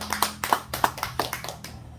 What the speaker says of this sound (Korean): 다 같이 큰 박수 부탁드립니다.